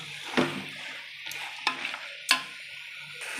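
Mutton being stirred in a frying pan, with a few sharp spatula scrapes and clinks over a soft, steady sizzle and no voices.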